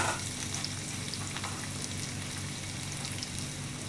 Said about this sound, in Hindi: प्याज को डाल के भी हम इसको भूनेंगे अच्छे से